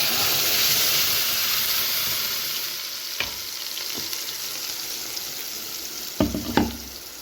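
Ground chutney paste hits hot oil with popped mustard seeds and curry leaves, a loud steady sizzle and frying hiss with a few clinks of stirring near the end.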